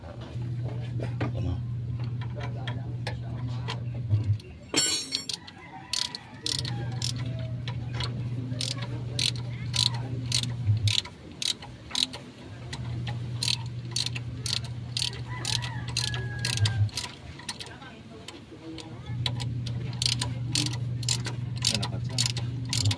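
A homemade DIY puller being cranked with its ratchet gives rapid, evenly spaced metallic clicks through most of the clip. A steady low mechanical hum runs underneath and stops briefly now and then, all heard close up.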